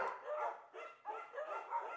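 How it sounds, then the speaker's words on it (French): A neglected little beagle barks in the video game Firewatch, a series of close, moderately loud yaps and yips coming in bursts across two seconds. "Il y a un petit beagle un peu négligé, Julia l'adore"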